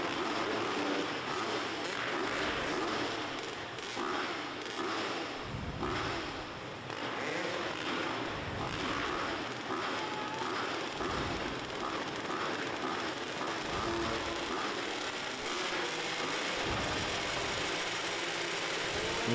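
Several 2-stroke racing motorcycle engines rev and drone together at an indoor race, steady and loud, with pitch swelling and dipping in repeated surges as the bikes wait to start.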